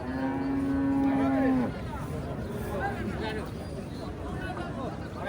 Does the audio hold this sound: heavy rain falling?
no